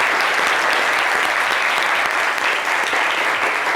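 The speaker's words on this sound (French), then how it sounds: "Applaudissements pour Shekina Yato." An audience applauds steadily at a televised show, a dense, even wash of clapping that holds at a constant level throughout with no voices over it.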